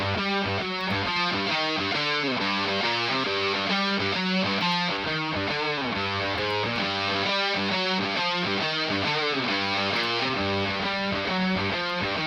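Distorted electric guitar recorded through a cheap $5 earbud microphone and brightened with an EQ plugin plays a busy, rhythmic riff of choppy, repeated chords, steady and loud throughout with no voices.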